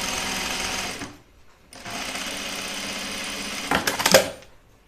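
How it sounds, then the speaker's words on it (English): A sewing machine top stitches denim jeans, running in a steady mechanical whir that pauses briefly, resumes, then ends with a few louder clunks and handling noises up close. "So I'm just going to top stitch this down."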